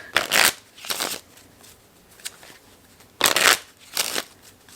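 A deck of playing cards is shuffled by hand, with several crisp riffling bursts in an uneven rhythm separated by short pauses and quiet handling noise, close and clear with no talk.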